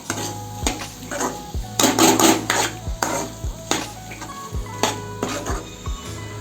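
A spoon stirs chili powder masala through a pan for okra tamarind kuzhambu, with repeated scraping and clinking strokes close up and no talking.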